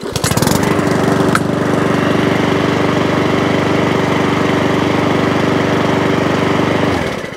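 A Mountfield 414 lawn mower's small petrol engine runs after repair on a spark plug fault, a loud, steady close-up chugging drone that holds evenly for several seconds before cutting off, with no talk.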